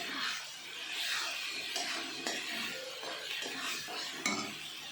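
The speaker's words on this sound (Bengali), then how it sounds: "এটা দিয়ে এবার একটু কষাবো, তো কষাতে থাকি।" Cooked chana and dal sautéing in a pan with spices give a steady sizzle mixed with repeated scraping and light clatter from stirring, close and moderately loud.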